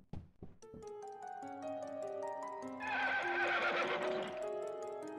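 A horse whinnies loudly in London Detective Mysteria, backed by game music, with steady clip-clop of hooves running alongside throughout.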